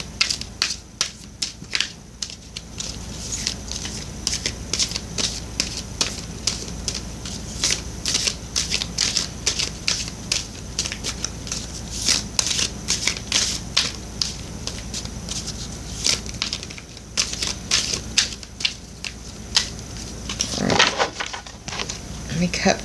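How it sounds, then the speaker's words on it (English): Repeated crisp riffling and snapping of tarot oracle cards being shuffled close up, in steady bursts, with a voice talking over parts of it. "I'm shuffling now for you from the Divine Circus Oracle deck."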